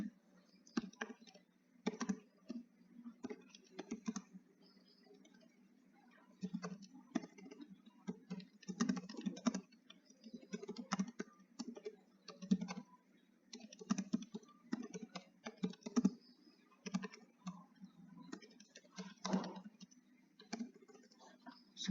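Typing on a computer keyboard, with irregular bursts of close key clicks and short pauses going on throughout, fairly quiet and steady in a quiet room.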